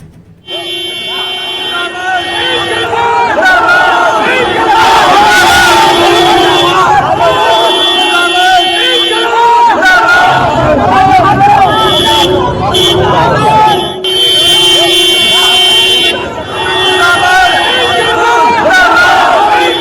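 Large roadside crowd in Rampur cheering and shouting as a politician's car arrives amid a flower-petal welcome, loud dense babble and chants with bursts of horns, close and continuous.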